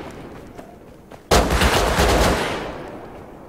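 In the survival game Rust, one sudden loud gunshot or blast breaks a quiet background, then a long roaring tail slowly fades over the next two seconds, heard alone without any talk.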